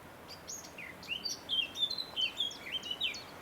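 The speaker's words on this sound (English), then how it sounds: "Northern nightingale." A nightingale sings a quick, varied series of high whistling and warbling notes in the fens by the River Ouse, Cambridgeshire, fairly faint and distant, against a soft outdoor hush.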